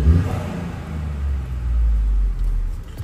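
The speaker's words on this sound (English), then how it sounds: "this is a valve Miltech exhaust, so it's not too intrusive" Ford Fiesta ST3 with MR260 software and a valved Milltek exhaust revs close by, a low engine rumble that rises and holds, then drops back, with no talk over it.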